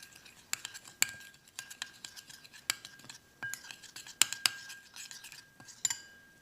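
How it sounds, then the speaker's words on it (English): A utensil stirs calcium powder into a liquidy gecko food mixture in a small container, with faint irregular scrapes and clinks repeating for several seconds, close but quiet and with no talk. "you just mix it up and make sure all the powder gets fully mixed in"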